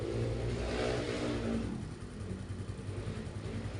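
Motorcycle engine running steadily during a carburetor adjustment, a close, continuous rumble that eases slightly in pitch partway through and settles into an even idle.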